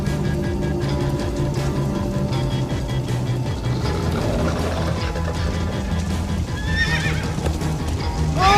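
Horses galloping and whinnying in the Minecraft Story Mode video game, Episode 5: steady hoofbeats rumble under music, with sharp neighs rising near the end.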